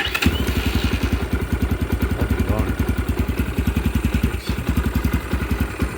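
A 2022 X-Pro 250cc Templar motorcycle idles close by after a carburetor install, with a steady, fast, loud thumping putter running throughout and a voice talking over it.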